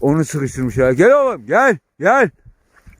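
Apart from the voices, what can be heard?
No everyday noises stand out.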